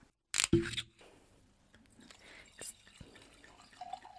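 Wine splashes and trickles briefly after a sharp clink as it is poured, followed by soft gurgling and quiet handling noises in an otherwise still room.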